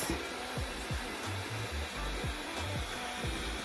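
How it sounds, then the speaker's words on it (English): Small handheld fan drying false eyelash glue, a close steady whirring hum with a faint rhythmic pulsing from the motor, continuous and fairly quiet. "I take my handy dandy fan and we're going to"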